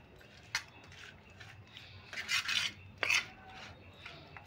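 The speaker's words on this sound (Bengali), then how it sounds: "একটু নুন আর হলুদ দিয়ে মাছটা খুব ভালো করে মিশিয়ে মাখাতে হবে।" Small mourala fish are rubbed by hand with salt and turmeric, producing soft, gritty scraping and squelching touches, a few sharper rasps standing out over low background noise.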